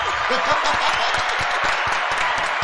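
A small group claps steadily, the claps close and even, while voices chatter and cheer over them.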